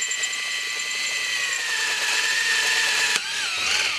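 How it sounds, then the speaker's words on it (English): Power drill enlarging bolt holes in an old 70cc moped's exhaust manifold during a cylinder kit upgrade, a steady high whine held close and loud for several seconds, ending with a sharp catch and a slight change in pitch. "The holes in the exhaust manifold were too small, so I had to drill them out."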